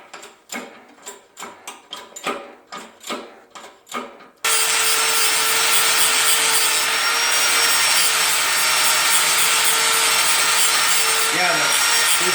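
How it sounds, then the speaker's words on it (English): Grinding an old front wheel bearing race smooth on a Nissan 300ZX: a series of short rhythmic scraping strokes, then a loud, steady continuous grind close by that runs to the end. "So now he's grinding it to make it nice and smooth."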